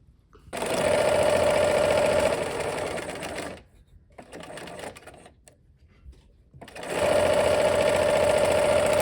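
Sewing machine stitching a quilt block seam, two long bursts of rapid close stitching separated by a quieter gap with lighter handling sounds.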